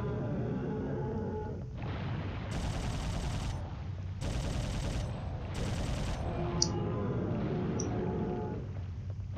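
Submachine gun fire in the survival horror game Dino Crisis 2: rapid automatic bursts in several separate volleys over a dense, loud background rumble, with a few sharp metallic clinks near the end.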